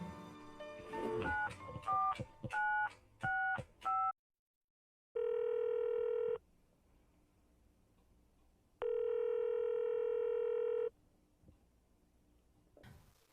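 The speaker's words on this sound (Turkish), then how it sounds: "Häziriň özüne men Merjanyň ilk telefonuny jaňa deýin." A phone call being placed: a quick run of keypad dialing beeps, then two long, steady ringback tones separated by a pause, clear and close with no talking.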